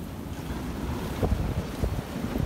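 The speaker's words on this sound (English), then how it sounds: "that wind is diabolical" Strong stormy wind buffets a hammock campsite, a steady roaring gust noise with microphone rumble and a few sharper thumps and flaps, continuous and fairly loud with no talking.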